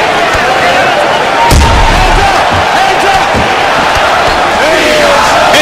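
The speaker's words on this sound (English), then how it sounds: "the crowd continues to rally behind Junior Dos Santos" A loud arena crowd at a UFC fight roars and cheers steadily for Junior Dos Santos, a dense continuous wall of voices with a sharp thud partway through and an excited commentator talking over it.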